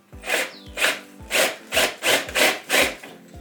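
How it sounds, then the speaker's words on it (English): A drill bites into a 2x2 wooden divider in a steady series of about seven rhythmic, grinding strokes, each a loud rasping burst followed by a brief pause. "I'm drilling straight into the divider 2x2"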